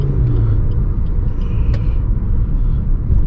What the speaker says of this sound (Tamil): ஸோ எஸ் கிராஸோட பிரேக்கிங் பர்ஃபார்மன்ஸை பற்றி பார்ப்போம்.